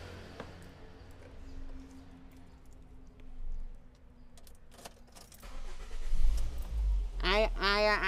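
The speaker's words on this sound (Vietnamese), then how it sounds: "Nổ máy lên, nổ máy lên." A 2009 manual-transmission Ford Focus cranks and its engine catches partway through, settling into a low, steady idle after quiet background shuffling, with a voice speaking briefly near the end.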